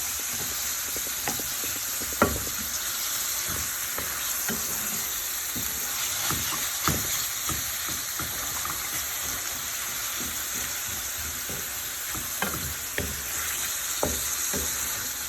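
Minced beef seasoned with black pepper and rosemary sizzles steadily in a hot pan, with a constant frying hiss broken by scattered stirring scrapes and spatters throughout.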